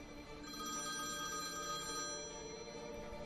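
A telephone rings at a police station, a steady continuous electronic bell tone heard alone and fairly loud throughout, with no voices.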